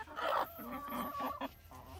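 Chickens cluck close by in a short burst of throaty, rhythmic calls, with a few quieter clucks trailing off.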